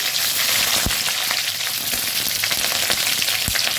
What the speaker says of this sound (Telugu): ఆయిల్ వేడైంది కొంచెం ఆవాలు జీరా ఒకటి బగారాకు తర్వాత పచ్చిమిర్చి